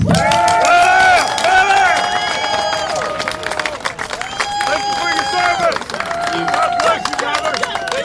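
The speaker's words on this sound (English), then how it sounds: "Please give us some applause for Joe Katz." Outdoor rally crowd at the US Capitol applauding a speaker being introduced, clapping and cheering mixed with loud tonal horns or whistles sounding repeatedly over the crowd noise.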